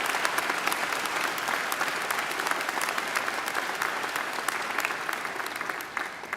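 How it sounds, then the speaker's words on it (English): Sustained applause from a graduation ceremony crowd, a dense steady clapping with sharp individual claps standing out, fading slightly near the end. "I think she deserves another great round of applause"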